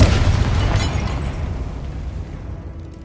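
A magic fire spell blasting in a Hogwarts Legacy battle: one loud, booming explosion bursts at once and then rolls off into a fading rumble and crackling debris over a few seconds.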